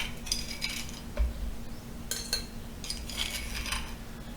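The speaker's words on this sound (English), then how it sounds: "We'll take the peppercorns first, put them in here." Peppercorns tumble into a glass jar for Thai pickles in a few scattered bursts of light clinks and rattles, close up, over a steady low hum with no talking.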